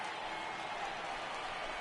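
A video game baseball crowd of over 39,000, on its feet in the ninth inning, makes a continuous, faint, even roar of cheering with no distinct voices.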